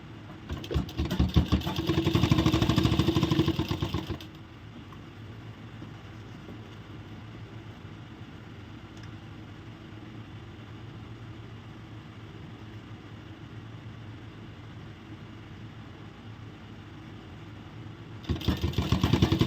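A sewing machine stitching a wide umbrella-style palazzo, running in a loud rapid whirring burst at the start and again at the end, with a quieter low hum and faint handling in between.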